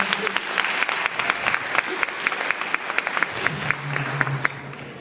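Sparse, rhythmic clapping from a small high school audience at a hypnotist show continues steadily throughout, each clap distinct and fairly close.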